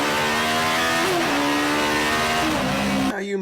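A Mazda Miata with a custom fabricated bumper-exit exhaust revs loudly and steadily up close, its raspy tone rising and dipping briefly before cutting off near the end.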